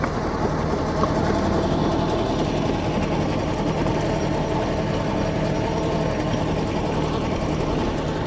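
A tractor drives a rotovator seed drill across a field while a fan blows seed down through pipes, giving a steady, loud, continuous engine drone with a rushing airy hum and no pauses.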